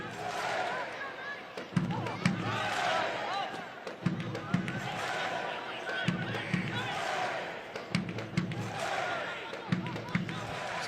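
A stadium crowd at a Tampa Bay Rowdies versus Louisville City FC soccer match at Al Lang, a steady roar of distant cheering with swelling shouts and claps, heard beneath continuous commentary.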